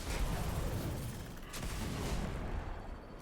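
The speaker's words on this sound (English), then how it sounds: "with these Scorch Cannons, you pull the trigger, hold the trigger, and it will charge up like that" Scorch Cannon in a video game charging and firing, a dense, sustained roaring blast that fills the whole stretch with steady, loud booming energy and a brief surge midway.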